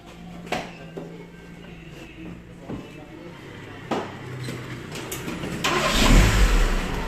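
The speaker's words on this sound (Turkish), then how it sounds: "Araba tek başına çalışıyor." A 1995 Tofaş Şahin car engine cranks and catches, then runs and builds to a louder, rougher rumble near the end, with background noise and faint voices earlier on.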